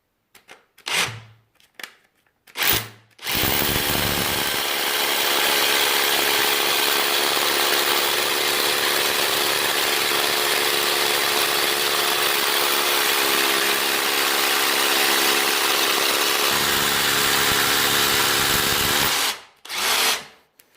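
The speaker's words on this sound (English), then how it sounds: "And with no problem, it drills, it's doing the job." A Parkside SDS plus hammer drill bores steadily into hard concrete, a loud continuous grinding hammer roar lasting most of the stretch after a few brief starts, with no voices.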